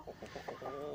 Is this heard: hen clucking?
yes